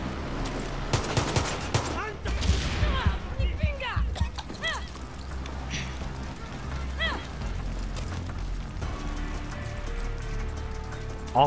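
Gunfire in Far Cry 6 gameplay, with bursts of rapid shots and scattered single cracks over steady game ambience, while someone talks over much of it.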